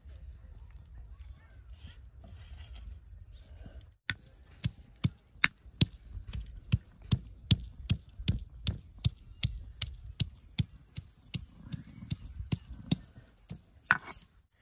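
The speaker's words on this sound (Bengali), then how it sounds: "দেখেন রসুনটা আদা ছেঁচা করে নিছি" Garlic and ginger are crushed together with repeated sharp pounding strikes at an uneven, steady pace, each blow close and distinct, following a stretch of low background hum; a voice speaks at times.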